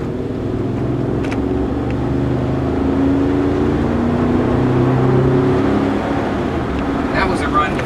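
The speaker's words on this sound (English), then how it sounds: "That was a run to 50 miles an hour" A 2013 GMC Yukon XL SLT-1 SUV accelerates steadily to 50 mph, its engine drone and low rumble rising gradually and continuously from inside the cabin, with road noise underneath.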